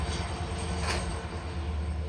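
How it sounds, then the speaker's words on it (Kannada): A moving goods train rumbles past at a distance, a steady low rolling roar with faint metallic wheel noise, continuous for a couple of seconds. "ಒಂದು ಟ್ರೈನ್ ಹೊಂಟೈತಿ"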